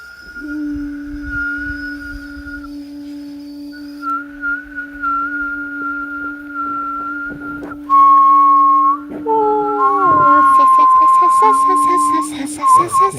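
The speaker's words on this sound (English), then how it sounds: "Really bad at whistling." Someone whistles long, wavering tones, breaking off and starting again, ending in a few squeaky, faltering notes, close and fairly clear.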